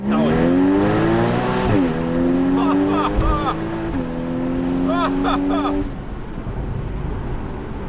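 A 2013 Porsche 981 Boxster S engine revs hard and pulls through rising gears, then backs off with crackles and pops, loud and close, with faint voices underneath.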